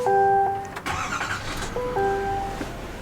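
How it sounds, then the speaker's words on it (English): A 2024 GMC Sierra 3500 Denali's engine is started by push button inside the cab, with electronic chimes before and after a brief cranking and catch settling into a low idle. "Push button start."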